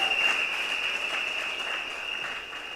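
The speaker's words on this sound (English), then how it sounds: "Give yourself a round of applause." A crowd at the UNC United Patriots slate launch in Signature Hall gives a sustained round of applause, even and fairly loud, with a steady high electronic whine running through it.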